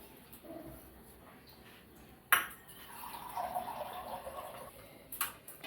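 Hot oil poured into wheat flour dough mixed with a little gram flour, rice flour and salt, heard as a sharp clink followed by a soft, sustained sizzling hiss up close, ending with another light clink.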